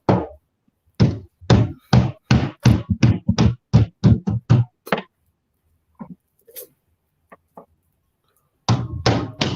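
A hammer knocks in a fast burst of about fourteen loud, sharp, close raps, goes quiet with a few faint taps, then a rapid run of knocks starts up again at the end.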